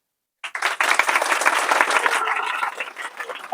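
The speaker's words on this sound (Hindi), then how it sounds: "अब चाहेंगे ताली" A room full of people breaks into applause after a short silence, dense clapping that stays loud and sustained, easing slightly toward the end.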